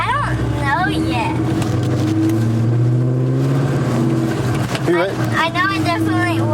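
A Ford Mustang Terminator Cobra engine drones steadily as the car drives, rising and falling in pitch under continuous conversation inside the cabin.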